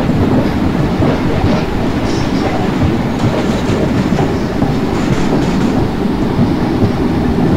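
Steady rumble and rhythmic clickety-clack of an Indian passenger train on the Bhusaval–Katni route in the MSTS Open Rails simulator, running continuously and loud with no talking.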